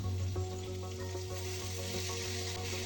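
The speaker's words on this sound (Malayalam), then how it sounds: "ഇനി നമുക്കതിനകത്തേക്ക് പൊരിക്കാനുള്ള മീനുകൾ വെച്ചെടുക്കാം" Fish fry in oil with curry leaves in a pan, a soft, steady sizzle heard close but quietly under a persistent low electrical hum, with a few small ticks and pops.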